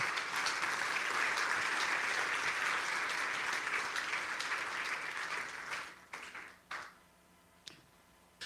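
A church congregation applauding in praise of the king of kings, a sustained dense wash of clapping hands lasting several seconds before thinning out into a few scattered claps and fading.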